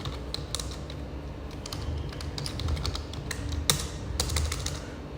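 A password is being typed on a computer keyboard while adding a user on an Ubuntu server: quiet, steady clicks of keys pressed in uneven bursts, close up with no talking.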